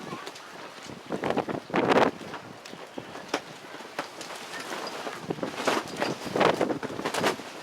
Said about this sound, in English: Wind has really picked up now.